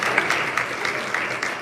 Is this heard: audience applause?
yes